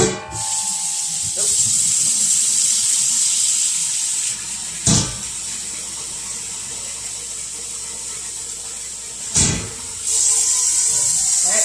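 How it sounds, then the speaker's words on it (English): A steady loud hiss of boiling water pouring into a bucket runs nearly continuously, broken by a couple of brief pauses and clunks. "we're just going to pour the boiling water over the top"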